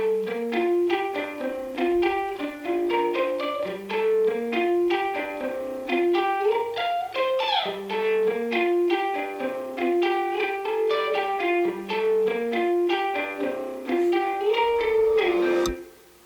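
A song intro with a guitar made to sound like a tiny amp in a room plays a quick, steady picked pattern of bright repeated notes, close and continuous, with no talking.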